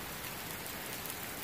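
Heavy rain pours down in Islamabad, a dense, continuous hiss of drops striking surfaces, loud and close, steady throughout with no voices.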